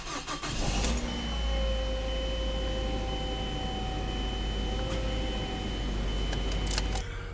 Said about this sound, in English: Cold start in a Mazda 5 minivan.